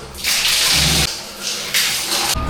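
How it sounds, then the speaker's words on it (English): Water poured in repeated bursts from a tabo dipper during a cold bucket shower, several loud splashing gushes close by separated by short pauses, no talking. "I'm gonna have a quick tabo shower"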